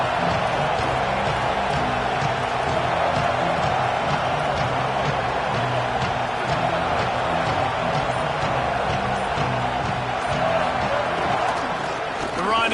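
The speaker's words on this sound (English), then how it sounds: "This crowd trying to make life miserable for this offense." Steady, dense stadium crowd roar from a college football video game (Virginia Tech vs Ole Miss), continuous and loud throughout, under a commentator's voice.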